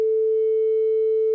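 A steady sine wave drone from a musicians' music app with sustain on holds one unchanging pure tone, clean and constant with no other sound.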